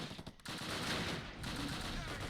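Gunfire and mortar fire in the WWII strategy game Close Combat Last Stand Arnhem, battling around the Arnhem Road Bridge and Oosterbeek: a loud, dense, continuous roar of overlapping shots and blasts with no clear pauses.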